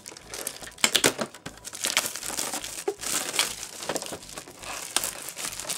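Plastic shrink-wrap crinkles and tears as it is peeled off a small box of Dust Warfare Axis Heavy Antitank Grenadiers miniatures. The close, irregular bursts of rustling start and stop several times, with no voice heard.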